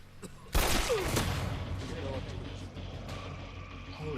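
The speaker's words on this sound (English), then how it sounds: "Veins, we heard 2 more gunshots in your direction" Gunfire from the TV show The 100 rings out as a sharp loud burst followed by a sustained, echoing rumble of shots and ambient noise.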